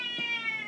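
A pet cat gives a single loud, drawn-out meow, close by and clear against a quiet room.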